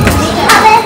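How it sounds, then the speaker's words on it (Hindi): Lively children's voices and shouts fill a busy outdoor street in a settlement neighbourhood, close and fairly loud, with general chatter throughout. "सो यहाँ बच्चों का बहुत ज़्यादा ही शोर हो रहा था"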